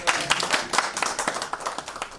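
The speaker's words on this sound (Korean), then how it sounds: "박수로 환영하시겠습니다." Applause from a church seminary conference audience welcomes a professor to the stage, a brief burst of dense, close clapping.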